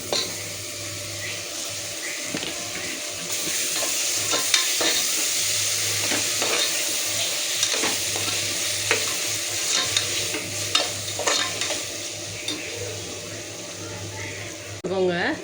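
Ground masala paste for mutton biryani frying and being stirred in a pan, a steady sizzle with repeated scraping and clinking strokes throughout, fairly close, with a low hum underneath.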